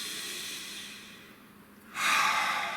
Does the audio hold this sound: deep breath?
yes